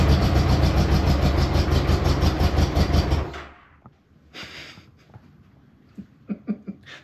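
A Honda Goldwing GL1200 with leaking cylinder gaskets runs loudly and steadily up close, then cuts out after about three seconds, leaving quiet clicks and knocks.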